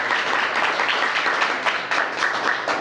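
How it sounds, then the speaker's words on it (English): Audience applause for a student speaker at a press conference, a steady dense patter of clapping hands sustained throughout the short stretch at moderate loudness. "Let's give Princess Ann a big round of applause"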